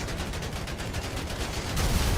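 Dense, rapid gunfire from the GTA video game during a roleplay gang fight, a continuous stream of crackling shots running the whole stretch and swelling louder near the end, with no talking over it.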